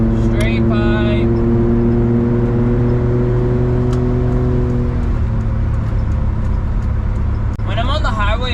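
Suzuki Jimny JA11 with a turbocharged engine and straight-pipe exhaust, droning loud and steady from the cabin at highway speed, its tone easing off midway while a voice talks over it.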